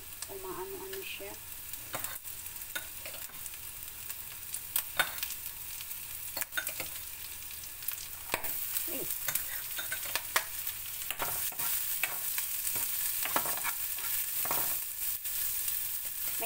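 Fresh onion frying in a little fat with steady sizzling and sharp splattering pops throughout, plus occasional stirring clatter, for a Filipino clam fried rice breakfast.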